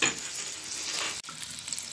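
Salmon frying in butter in a pan, a dense steady sizzle, close, broken by a brief clatter and faint crackles, no voices.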